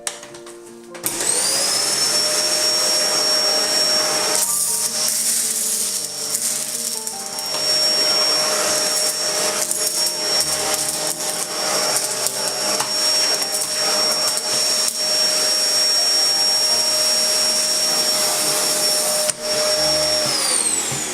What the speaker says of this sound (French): on va être obligé de lever la brosse d'aspiration pour les aspirer